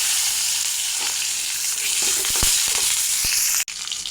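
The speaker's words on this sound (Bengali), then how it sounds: "এই তেলে টমেটোগুলো ভেজে নেব।" Tomatoes frying in hot oil left after frying fish; a loud, dense sizzle with a few sharp pops and spatters, close up and without voices.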